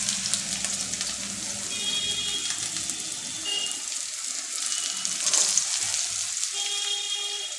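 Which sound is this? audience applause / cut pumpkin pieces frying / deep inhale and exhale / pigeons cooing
cut pumpkin pieces frying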